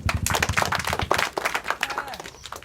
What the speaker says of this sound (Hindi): दीदी और नेहा के लिए ताली बजाओ।